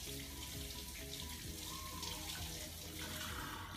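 A crab is rinsed under a running kitchen tap, giving a steady, close hiss of flowing water into a sink that continues unbroken throughout.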